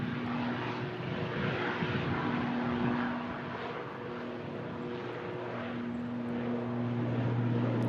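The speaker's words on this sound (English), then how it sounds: "As the Aer Lingus ATR shifts out to Belfast." An Aer Lingus ATR turboprop airplane departing for Belfast, a steady droning engine hum with a sustained propeller tone that swells slightly toward the end, heard at a distance without talk.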